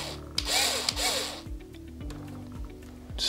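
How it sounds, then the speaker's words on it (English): A small screw is driven loosely into a processor expansion module. A power driver whirs in short, repeated bursts with rising pitch, close and clear. "So I'm going to loosely put the first screw in."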